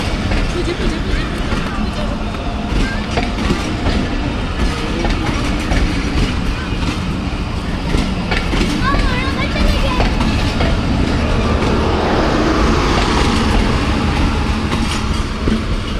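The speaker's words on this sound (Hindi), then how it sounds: "तो जी ट्रेन चली गई आगे अटक सिटी जंक्शन" A train rumbles and clatters steadily past at Taxila Cantt junction railway station, loud and close for the whole stretch, with a brief wheel squeal near the middle and people talking underneath.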